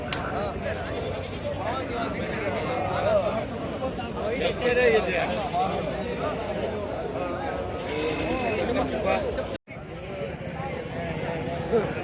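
Sheep and goats bleat repeatedly at a busy livestock market, calls rising over steady crowd chatter and bargaining voices, with a brief gap near the end.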